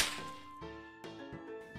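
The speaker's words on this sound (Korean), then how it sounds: "말뚝이 탈을 쓴 남자가 껑충껑충 뛰어나오더니 양반의 얼굴을 채찍으로 내리쳤습니다." A whip cracks sharply against a face, a single sudden lash at the start followed by a couple of softer thwacks, faint and isolated with no voices.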